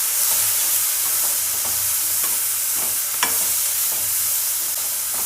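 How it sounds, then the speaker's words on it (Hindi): Spices are stirred into a dry vegetable curry in a pan, a steady sizzle with soft scraping strokes at a regular pace and one sharper clink partway through. "अच्छे से इसको मिक्स कर देंगे।"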